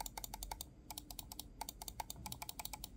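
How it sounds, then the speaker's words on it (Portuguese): Crisp clicks come from the scroll wheel button of a Kysona M511 gaming mouse, a rapid irregular run of sharp close-up taps with no talking. "na altura do scroll aqui para baixo, bem tranquilo, um clique firme, bem tensionado aqui, com o acionamento bem presente"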